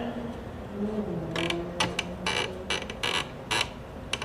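A Kenmore sewing machine's cover popping open, giving a series of sharp mechanical clicks and ratcheting snaps that start about halfway through, close and moderately loud over a low background hum.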